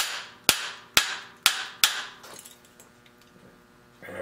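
A small hammer strikes a part on a small steam engine build: four sharp metallic taps, evenly spaced about half a second apart and close by, followed by quieter faint clinks and handling noise.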